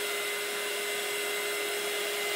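A hair dryer blows steadily on a marker pour art piece, a loud, close, unbroken whooshing hum with a constant motor tone and no talking.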